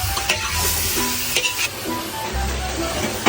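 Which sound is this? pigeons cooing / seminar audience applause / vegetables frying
vegetables frying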